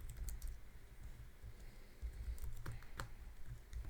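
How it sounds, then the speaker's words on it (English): Typing on a computer keyboard, a steady run of close, crisp key clicks with uneven rhythm and a few heavier strokes, heard alone. "So just type this out."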